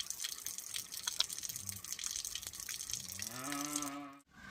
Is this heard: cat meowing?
no